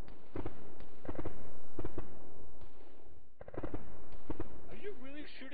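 Gunfire rings out in a military video game, several sharp bursts of shots and a rapid volley in quick succession, with a voice talking over the radio between them.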